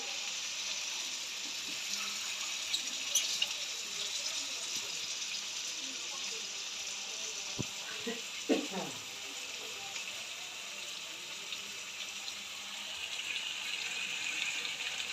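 Steady frying sizzle from a hot pan fills the scene, with a brief louder burst of hissing and bubbling as a small splash of water hits the pan midway, then the sizzle settles back to an even hiss.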